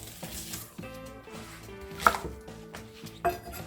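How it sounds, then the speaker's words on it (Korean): A knife chopping green onion (daepa) on a cutting board, a quick run of rhythmic close taps at an even pace, alone without talk. "파부터 먼저 썰어 놓고요"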